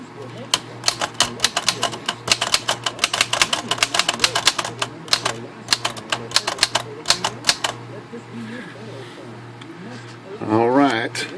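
A repaired Remington portable typewriter with large primary type clatters through rapid, close keystrokes in a steady run, then stops, followed by a brief mechanical whir at the end.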